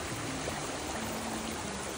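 A shallow stream on a Washington hiking trail gives a steady, soft wash of flowing water, faint and continuous throughout.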